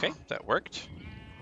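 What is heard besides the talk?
sheep bleating in the video game Minecraft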